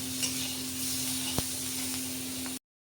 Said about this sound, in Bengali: এখানে তেলের মধ্যে পেঁয়াজটা দিলাম